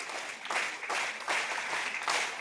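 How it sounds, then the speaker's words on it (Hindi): Students at a school morning assembly clap together in time, with four or five firm, evenly spaced bursts of group clapping close by. "आगे ताली।"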